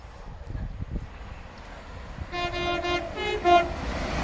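A Northern Trains train rumbles past at close range at West Allerton, a two-tone horn sounding partway through over steady wheel and engine noise.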